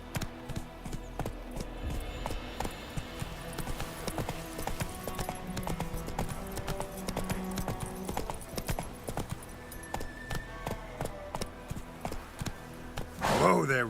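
Roach, the horse in The Witcher 3, trots along with a steady, even clip-clop of hooves close by, set against a continuous musical backdrop, with a voice briefly audible.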